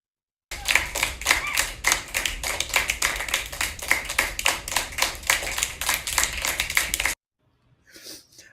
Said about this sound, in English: I want to do my applause.